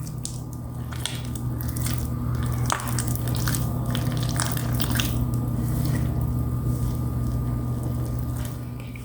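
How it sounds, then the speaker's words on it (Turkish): Butter being worked into dough by hand for bakery-style simit, giving steady soft squishing and sticky slapping sounds, close and continuous, with a low hum in the background. "Beş dakika yoğuruyoruz."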